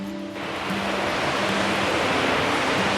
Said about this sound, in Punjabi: ਦੇਖੋ ਨਦੀ ਦੀ ਆਵਾਜ਼ ਦੇ ਕਿੰਨੀ ਸੋਹਣੀ ਲੱਗ ਰਹੀ ਪਾਣੀ ਦੀ ਹੈ